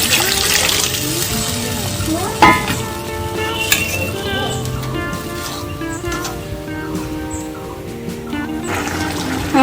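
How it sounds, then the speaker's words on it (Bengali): Boiled pea water poured into ghugni simmering in a pan, a steady wash of liquid pouring and sizzling with a few clinks of utensils, continuous and fairly loud throughout. "আমি এবার সিদ্ধ করা মটরের জলটা দিয়ে দেবো।"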